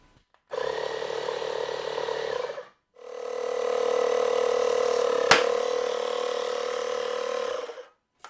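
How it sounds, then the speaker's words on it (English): A small compressor used while fitting a watch case back runs in two close bursts, a short one and then a longer steady hum, with a sharp click partway through the second. "So I have my little compressor here."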